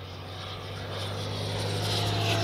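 A 70mm electric ducted-fan RC F-16 jet, E-flite or Freewing, flies at full speed, a steady loud whine and rushing roar that swells gradually as it nears, with no talk.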